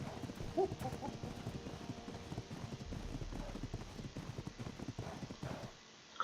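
A horse in the ARK video game clip-clops along in a steady, rapid rhythm of hoofbeats, moderately close and continuous, with no talk over it.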